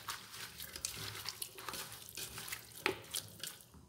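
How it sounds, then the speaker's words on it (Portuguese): Water running and splashing into a cooking pot, a small cup's worth poured for stewing pork, with a continuous trickling wash and a few brighter splashes near the end, moderately close with no talk. "aqui eu vou estar colocando um copinho de água"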